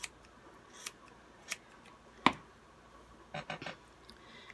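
A synthetic wig's hair is trimmed with scissors, giving sparse, faint, crisp snips heard close by: single cuts spaced apart, then a quick cluster of three near the end.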